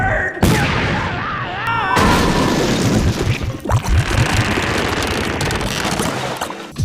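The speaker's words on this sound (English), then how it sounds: "Then immediately gets fired out of a cannon." A cartoon character fired out of a cannon: a loud booming blast amid chaotic crashes and cartoon sound effects, with shouting voices over the noise.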